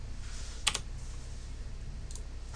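Typing on a new computer keyboard late at night in a dark room: a quiet, sparse run of key clicks with one sharper double clack and a later pair of taps over low background hum.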